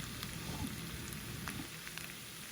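Potato sabzi frying gently in a pan over low heat, giving a soft, steady sizzle with faint crackles, quiet and close with no voices.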